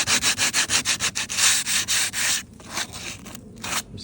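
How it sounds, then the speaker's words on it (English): Exterior putty being hand-sanded in quick back-and-forth strokes, a rhythmic rasping scrape that is close and loud, first in even rapid passes and then in slower, irregular ones. "And then I'm just going to sand it."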